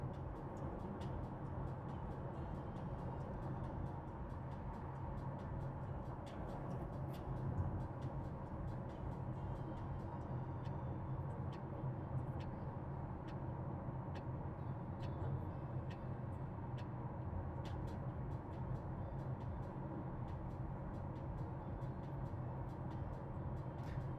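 Interior road noise inside a moving Tesla on a drive with Full Self-Driving, a low, steady rumble and hum throughout with faint scattered ticks and no talking.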